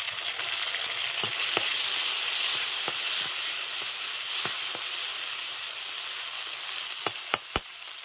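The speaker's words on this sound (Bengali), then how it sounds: "দিয়ে দিচ্ছি টমেটো।" Tomatoes going into a pan of frying, darkened onions: a loud, continuous sizzle with steady hiss and scattered stirring knocks, a few sharper clacks near the end.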